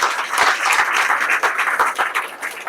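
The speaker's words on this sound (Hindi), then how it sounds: "जरा मेरे को एक बार रिप्लाई कर दीजिए तालियां बजा के" Audience at a family club presentation clapping on request, a short, fairly loud burst of many hands with a few sharp individual claps standing out.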